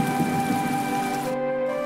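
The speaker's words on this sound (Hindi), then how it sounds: "ये तो बहुत तेज बारिश हो रही है" Heavy rain pours steadily in a village setting, a dense continuous hiss with faint rumbling underneath, moderately loud and unbroken with no talking.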